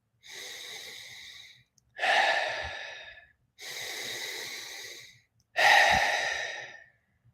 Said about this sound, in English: feeling that air coming in to the lungs, feeling that air going out, finding that circular rhythm to the breath